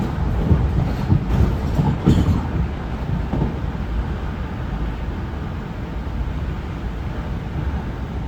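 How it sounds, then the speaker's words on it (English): A train rolling over a railway junction at a Kent station, loud rumble with a few sharp clacks and bangs early on, then a steady heavy roar of wheels on track as it continues past. "The shot before this will have been my train passing over a junction."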